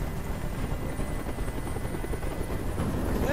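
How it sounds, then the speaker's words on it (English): Helicopter hovering overhead in the video game Detroit: Become Human, a loud, steady rotor thrum and engine roar holding continuously with no talk. "I can't stand that noise anymore. Tell that helicopter to get out of here."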